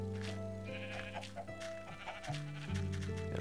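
Sheep bleating in Minecraft, several short blocky bleats over about three seconds, fairly close, with no talk, set against a steady backdrop of game music or ambience.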